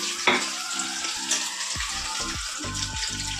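Food cooks in a pan with a continuous moderate sizzle, broken by a few soft knocks and clatters of utensils, heard close and without speech.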